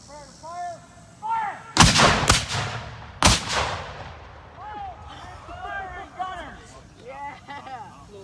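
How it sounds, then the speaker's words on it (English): Civil War reenactment artillery cannons firing three sharp, booming shots in quick succession, loud and echoing outdoors, with people talking and calling out before and after. "I said commence firing gunners"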